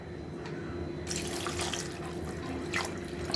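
Water runs from a tap into a cooking pot of mutton and lentils, a steady close splashing pour that swells after the first second and continues to the end.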